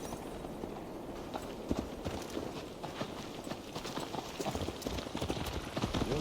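Horse hooves clip-clopping at a gallop in Assassin's Creed Valhalla, a steady rapid rhythm of hoof beats carried on for the whole ride, fairly close and loud, with no talk over it.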